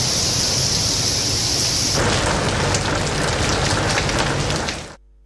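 Heavy rain falling on city streets in Lahore, a loud, dense roar of downpour with a deep rumbling underlayer, intensifying partway through before cutting off sharply at the end.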